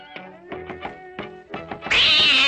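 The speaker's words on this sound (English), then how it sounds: "Hey, Horace, look what we got! A tabby cat!" A tabby cat meows and yowls in a series of short cries that end in a loud, harsh caterwaul, set against orchestral music in a classic 1961 animated film scene.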